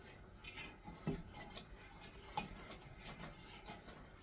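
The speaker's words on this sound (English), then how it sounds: "you want to stir it until the mixture thickens and begins to bubble" Spoon stirring thickening peach pie filling made with ClearJel in a pot, faint soft scraping and light clinks at an irregular rhythm.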